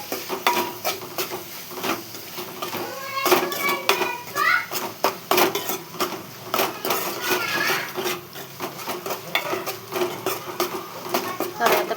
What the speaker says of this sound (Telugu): కారం, సాల్ట్ వేసేసుకొని బాగా గలబెట్టాలి.